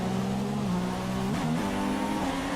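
A Formula 1 race car engine in the racing game F1 2016 drones steadily at high revs, its pitch dipping and climbing through gear changes, loud and continuous with no talk.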